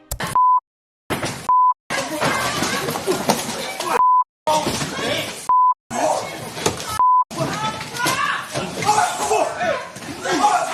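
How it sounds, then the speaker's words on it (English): Courtroom alarm sounding as a short repeated beep between bursts of loud chaotic noise and voices, after a man attacked a judge at the bench. "As alarms went off in the courtroom, people started to call for help."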